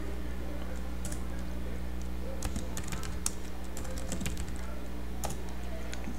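Fingers tap on a computer keyboard in quick, irregular bursts of close, light clicks over a low steady hum, with no talking.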